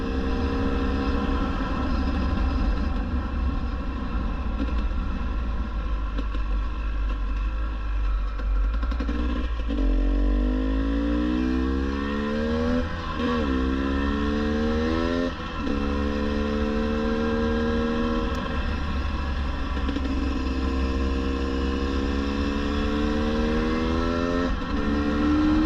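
A 2022 GasGas EC 300 two-stroke enduro motorcycle rides hard, its loud engine rising and falling as the rider shifts through the gears and opens the throttle again, with a steady rumble underneath.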